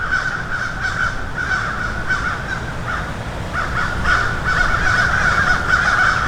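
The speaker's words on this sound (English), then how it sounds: "It sounds like the birds are fighting." Several crows caw loudly and repeatedly as if fighting, harsh overlapping calls in an irregular rhythm that grow busier toward the end, with no talking.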